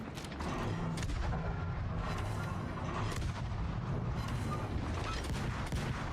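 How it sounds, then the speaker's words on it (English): Video game destruction effects burst out in a rapid series of booming explosions and crackling blasts, like fireworks or artillery, loud and continuous with overlapping impacts. "I love that destruction effect. That's such a fun destruction effect to look at."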